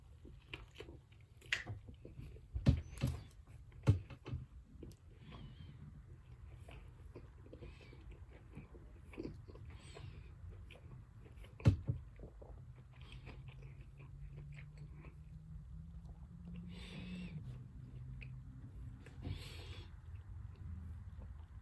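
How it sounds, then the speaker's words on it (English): Bites and chewing on a Popeyes fried chicken sandwich, close and quiet, with a few sharp crunchy bites early on followed by a long stretch of soft, wet chewing. "Let's take a bite out of this."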